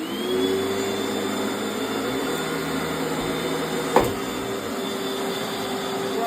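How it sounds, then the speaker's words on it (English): A late-1980s Panasonic Jet Flow vacuum cleaner runs continuously with a steady whirring motor drone and airy hiss, close and moderately loud, with one brief knock partway through. "I'm going to give this vacuum cleaner a run"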